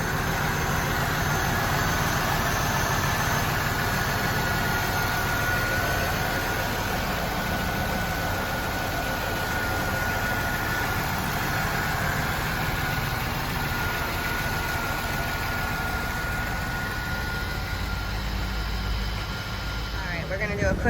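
A 1997 Pontiac Trans Am engine idles steadily for about twenty seconds, a constant close, even rumble with no voices.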